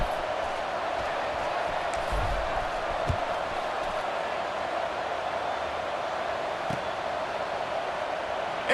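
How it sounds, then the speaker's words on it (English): Stadium crowd in EA Sports College Football 26 keeps up a steady, dense buzzing murmur after a score, with a few faint thumps rising from the broad roar. "this crowd is buzzing after that last score"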